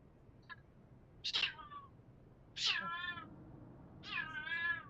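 An indoor cat meows three or four times, close and fairly clear. Each drawn-out cry wavers in pitch, with a short chirp before the first one and quiet gaps between them.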